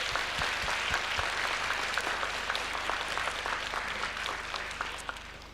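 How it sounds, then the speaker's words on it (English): An audience at a middle school band winter concert applauds steadily, a dense wash of clapping that slowly fades toward the end. "Can we give them a round of applause,"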